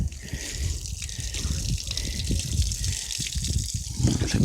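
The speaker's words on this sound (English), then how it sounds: "get this water to flow." Water runs steadily over a car headlight lens being cleaned with toothpaste, a continuous close trickling and splashing wash with no breaks.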